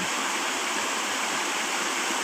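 A forest waterfall rushes in a dense, steady roar of falling water, close and loud, with no voices over it.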